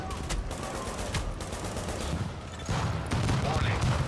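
Automated turret in a video game firing sustained rapid bursts of gunfire, loud and close, with dense overlapping shots that grow heavier toward the end.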